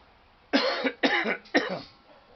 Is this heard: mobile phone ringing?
no